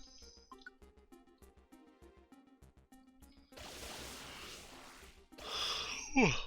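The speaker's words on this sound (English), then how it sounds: "Sorry for the yawn, guys." A player breaks into a long, breathy yawn during Pokemon Mystery Dungeon DX, after game music with soft rhythmic tones. The yawn rises into a louder groan-like exhale at the end.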